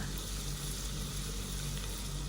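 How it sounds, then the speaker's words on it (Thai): Onions frying in oil give a continuous, even sizzle that stays close and steady throughout, with no talking over it. "อันนี้จะเป็นขั้นตอนการเจียวหัวหอมนะคะ"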